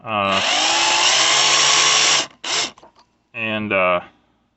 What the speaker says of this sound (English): This is an 1/8 inch drill bit, by the way.